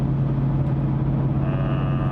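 Inside a car with Brembo brakes cruising along the road on a long drive from Wisconsin to Connecticut, a steady engine drone and low road rumble hold evenly throughout, with no talking.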